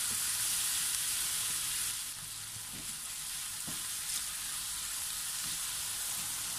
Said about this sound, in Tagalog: ituloy lamang po natin ang ating paggisa hanggang sa ito ay lumambot ng konti